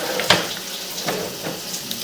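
Running water rinses the lens of a sewer inspection camera, a close, steady wash of splashing and trickling with a few sharper drips and spatters.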